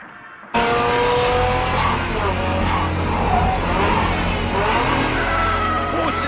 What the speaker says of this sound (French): c'est la voiture du jeune Takahashi